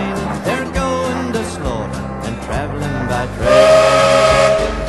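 An early Indian Pacific locomotive on the Perth to Kalgoorlie line sounds a loud, tonal whistle that holds and shifts across several blasts, ending in a brighter, stronger burst.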